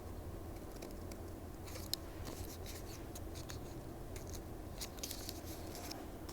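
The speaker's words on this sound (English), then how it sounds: "I have to finish cutting his hat out." Scissors snip through paper for a children's craft, a soft, steady crunching cut that runs on continuously at close range and low volume, with no voices.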